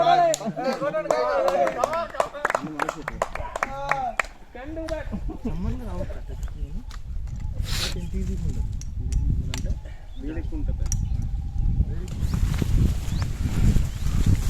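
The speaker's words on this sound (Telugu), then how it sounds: "చప్పట్లు కొడదాం." A group of hikers on the trail to Sir Endric Peak near Vizag claps hands together in a dense, sustained burst of applause after some talking at the start.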